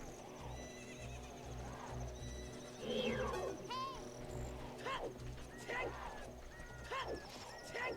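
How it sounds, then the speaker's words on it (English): Horse neighs and whinnies with clip-clop hooves amid busy game sound effects and music in a Zelda Ocarina of Time randomizer, several rising whinny calls repeating through the scene. "The horse was summoned into the void."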